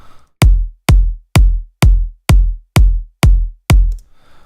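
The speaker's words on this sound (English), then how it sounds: "Pretty standard, like regular progressive house type of kick." Eight evenly spaced progressive house kick drum hits, each a punchy thump with a deep decaying tail, played alone at a steady tempo.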